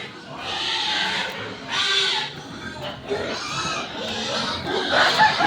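Pigs in a pen grunt and squeal in repeated bursts, close and loud, with someone talking briefly among the animal noise.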